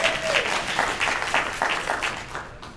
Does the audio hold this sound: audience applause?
yes